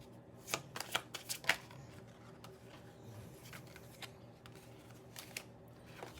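Tarot cards being shuffled by hand: a quick run of crisp riffling bursts early on, then softer handling and rustling, close and fairly quiet, with no talking.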